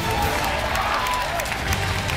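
Dense, steady applause and cheering rise from a crowd at a Smash Bros. tournament held at Gamescom 2015, forming a continuous wash of clapping with no pauses.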